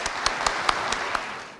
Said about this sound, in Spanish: un aplauso para Jaime